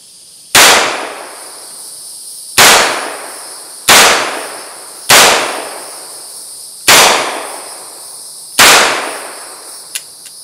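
Dan Wesson revolver fired at an outdoor shooting range, six loud sharp shots spaced about two seconds apart, each followed by a ringing decay, with no voices.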